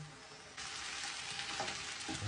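Chicken, mushrooms and onion fry in a pan, a soft hiss that jumps into a fuller sizzle as the onion goes in, with light stirring scrapes near the end, no voices.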